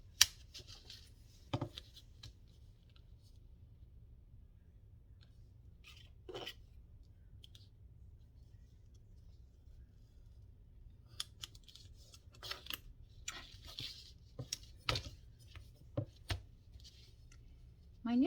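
Scissors snipping through paper for a small paper pocket craft, a few sparse quiet cuts early on, then a faster cluster of crisp snips near the end over a low steady hum.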